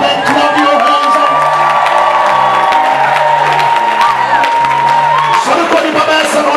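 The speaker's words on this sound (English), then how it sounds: "Somebody shout and clap your hands up." Church congregation shouting and clapping during a lively service, loud sustained cheers and whoops over a steady beat of organ or keyboard chords, with voices calling out throughout.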